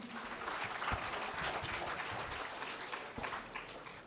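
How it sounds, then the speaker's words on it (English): An audience at a RISC-V technology symposium applauds steadily for about four seconds, a dense, even wash of clapping from a large crowd with no voices on top. "You can motivate them by clapping them."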